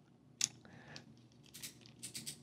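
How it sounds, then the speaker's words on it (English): A Fishband Clamber Hyper Micro BFS reel with a CDM spool and 4.5 kg of drag gives off close, sharp clicks: one crisp burst early on, then a quick run of ticks toward the end, with a quiet room behind it. "Some loud clicking for the drag."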